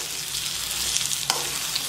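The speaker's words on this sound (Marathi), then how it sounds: "वांग्याला आहे ना असे चांगले लाल चट्टे पडूस तर परतून घ्यायचे" Brinjal pieces frying in hot oil in a pan, a steady close hissing sizzle with a couple of faint stirring clicks, no talking.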